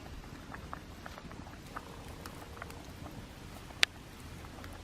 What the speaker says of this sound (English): Yeah, we got the rice a boiling now.